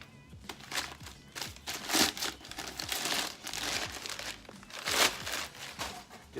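Paper packing material crumples and crinkles steadily for several seconds while a box holding an alternator for a 2008 Ford Explorer Sport Trac is unpacked, close and continuous with no talking.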